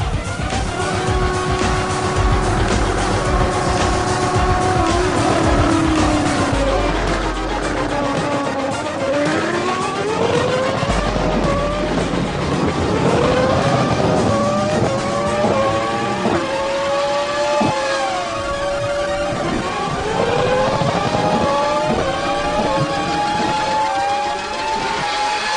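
Race car and motorbike engines scream through repeated gear-change sweeps during a drag-style racing duel, loud and continuous with tire noise, no talk.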